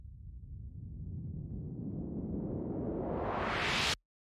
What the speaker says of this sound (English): and a white noise riser.